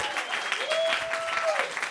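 A studio audience claps continuously and fairly loudly throughout, with a tonal whine or voice-like hum running underneath.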